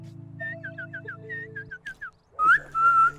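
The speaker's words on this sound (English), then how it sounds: "He's whistling." A Sims character in The Sims video game whistles a short, wavering tune of about a dozen chirpy notes over a low humming game background, then longer sustained whistled tones close up at the end.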